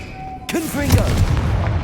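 A Confringo spell blast in the game Hogwarts Legacy lands as a sudden loud booming burst, followed by rumbling debris and short tonal swoops, with a voice calling out just before and over it.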